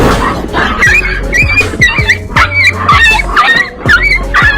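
Two puppies yip and bark repeatedly in quick bursts while playing with a monkey, close and loud, the high-pitched barks and whimpers coming in an uneven rhythm over a steady low hum.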